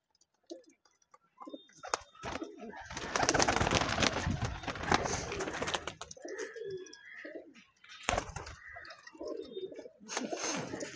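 Giribaz pigeons coo and flutter nearby, soft throaty calls mixing with scattered clicks and rustles in a busy loft.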